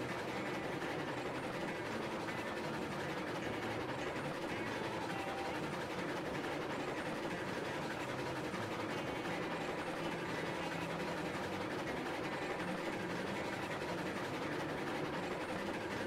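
A train rolling steadily in the railway game Railroads Online, a continuous broadband rumble with faint rail clatter that holds at an even level throughout, with no voices over it.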